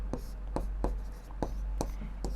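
A pen writing out a Class 10 maths statement on paper or a board, making short regular scratchy strokes about every third of a second over a low steady hum, with no clear voice.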